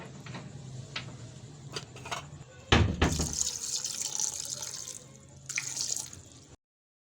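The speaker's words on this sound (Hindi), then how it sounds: "पानी इसमें हम थोड़ा सा ही ऐड करेंगे, ज़्यादा नहीं।" Water poured from a tap or jug into a pot of beef and lentils with spices for shami kabab, a short splashing pour that swells midway and trails off, fairly close, with no talk.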